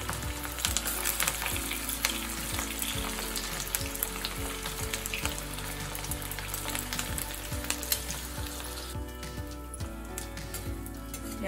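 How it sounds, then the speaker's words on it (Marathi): Green pea vadas fry in hot oil over a medium flame, a dense, continuous crackling sizzle close by, with occasional stirring and scraping in the pan. "तेल तापलेले आपल्याला एक एक सोडायचं आहे। मीडियम गॅसवर आपल्याला तळून घ्यायचे।"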